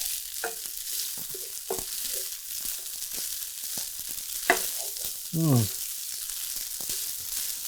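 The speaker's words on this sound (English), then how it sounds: "Just going to give this a stir, combine it all." Fried rice is stirred and combined in a hot pan, giving a steady sizzle with scattered utensil clinks and scrapes, and a brief vocal sound partway through.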